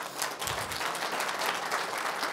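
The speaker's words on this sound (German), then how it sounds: "und jetzt bitte noch einmal Applaus" Audience applause at a German grid-technology presentation event, a continuous patter of many hands clapping. It is fairly quiet and steady, with no talk over it.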